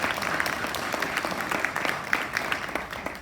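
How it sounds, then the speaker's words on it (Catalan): A school winter concert audience claps for the student presenters, a dense, steady round of applause from a crowd in a hall, with no talk over it. "un aplaudiment per ells"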